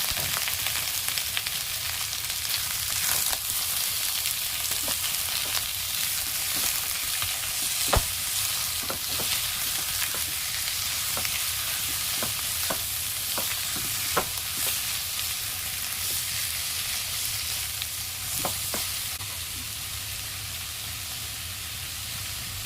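Chicken pieces for a chicken curry fry in a pan, giving a loud, unbroken close-up sizzle that runs throughout, dotted with occasional light taps and stirring clicks.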